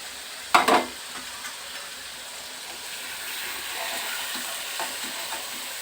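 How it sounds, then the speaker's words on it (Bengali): Paneer cubes frying lightly in oil in an Indian kitchen, a steady soft sizzle with a brief louder clatter near the start, then continuous low crackling throughout. "পনিরগুলো হালকা করে ভেজে নিচ্ছি"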